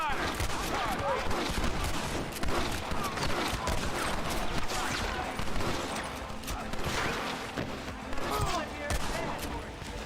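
Gunfire in a Western shootout in the Red Dead Redemption game, dense overlapping shots popping irregularly at varied distances for the whole stretch, with shouting voices mixed into the fray.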